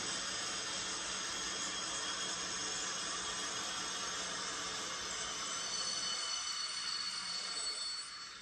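A Cavalex Class 56 model locomotive hauling a heavy 4.5 kilo train at slow speed, a faint steady whirring motor hum with a fine high whine, running continuously without talk.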